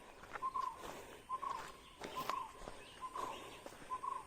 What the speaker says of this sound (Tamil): பறவைங்களோட சவுண்டு சூப்பராக்கா.